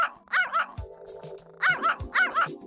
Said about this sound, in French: celui-ci fut rapidement poursuivi par Nana, la chienne de la famille.